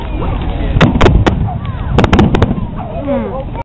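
Fourth of July fireworks burst in sharp, loud cracks and booms, several in quick clusters, with voices and crowd noise between the blasts.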